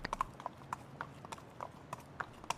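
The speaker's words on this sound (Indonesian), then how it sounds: "Reza tampak gagah di atas kuda" Horse hooves clip-clop in an irregular walking rhythm, a dozen or so distinct knocks, moderately close and alone without talk.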